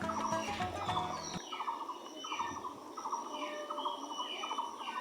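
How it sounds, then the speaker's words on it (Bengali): Ducks in a village call in repeated rhythmic quacking bursts after a cyclone storm, several birds fairly near, and an opening stretch of louder mixed background noise fades into the steady calls. "হাঁসেরা কিন্তু এখন এই যে মেলা বসিয়েছে, তাদের যেহেতু বৃষ্টিতে আনন্দ প্রকাশ করে"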